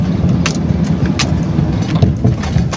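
Road traffic in Camarines Sur: a steady loud roar of passing cars and engines close by, with a few sharp metallic clinks or jangles rising above the continuous rumble, no talking.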